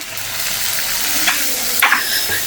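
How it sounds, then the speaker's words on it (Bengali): Ginger garlic paste frying in oil in a home kitchen, a steady close sizzle with a couple of brief stirring scrapes, no voices. "তেলের মধ্যে আদা রসুন বাটা দিয়ে দিলাম একটু ভালো করে ভাজা ভাজা করে নেব"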